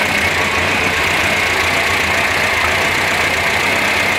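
A Renault Trafic T1000 van engine idling at about 1000 rpm, a loud, steady, close-up drone with an even rough texture throughout and no voices.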